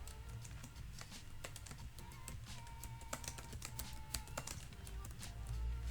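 Typing on a computer keyboard to enter a phrase into a Google Sheet, with quick, irregular clicky keystrokes running steadily at close range for several seconds, no voices.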